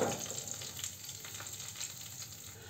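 Cumin seeds and red chilies fry in hot oil with a steady, close sizzle that holds evenly throughout, while a spoon stirs them through the pan.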